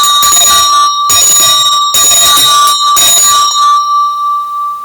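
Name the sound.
bell being rung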